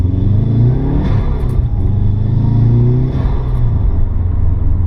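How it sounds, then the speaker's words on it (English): A turbocharged car engine hums and rises steadily as the turbo spools up with a faint whirring whine, a continuous close rumble that swells twice, fitted with an aftermarket intake, without any talking. "let's see if we can hear this spooling up a little bit"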